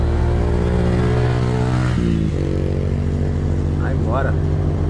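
A 1970 Chevrolet Opala accelerating, its engine droning and climbing through a gear change midway, heard from close by with people talking over it.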